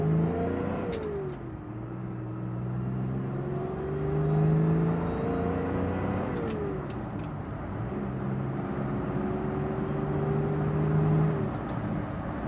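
An Alvis TE21 car engine pulls through the gears, its deep hum rising in pitch, dropping at each shift, then climbing again, steady and moderately loud from inside the car.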